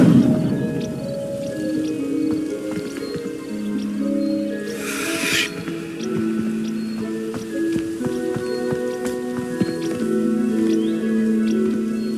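An Incendio fire spell in Hogwarts Legacy sets dry vines alight, giving a brief, bright whooshing flare of flame partway through, heard over steady orchestral game music.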